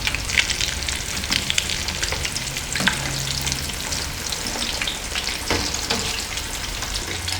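Fish pieces sizzle and crackle steadily in hot oil in a pan, a continuous close frying hiss with small pops, no talking.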